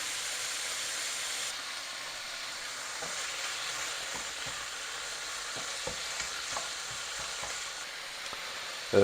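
Pork shoulder meat frying in a pan, a steady bright sizzle and hiss with occasional clicks and light stirring taps, close and continuous, no talking.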